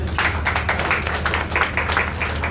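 An audience at a Hindi poetry gathering claps in a loose, uneven patter of hands, individual claps distinct and fairly close over a low background hum.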